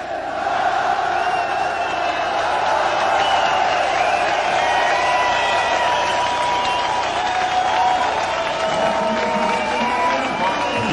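Boxing arena crowd cheering after a fight between Marek Piotrowski and Rick Roufus, a loud, continuous roar of voices and applause that stays steady throughout, with shouts rising above the din.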